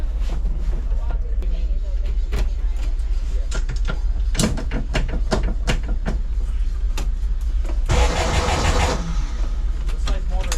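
A 1974 VW bus engine runs with a steady low rumble throughout, with clunks and a brief louder burst near the end, while people talk nearby.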